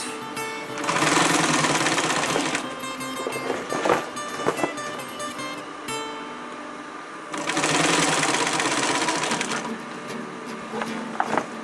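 A sewing machine stitches rollup backpack fabric in two loud, fast runs separated by a short pause filled with clicks and fabric handling, all close up.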